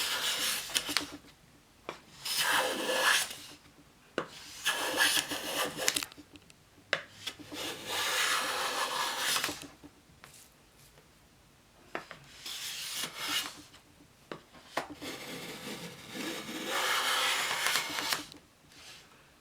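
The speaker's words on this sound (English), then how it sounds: "Now I'm taking real thick shavings." A Keen Kutter K4C hand plane takes thick shavings off a board in long, loud rasping strokes, each followed by a short pause, repeated about half a dozen times close up.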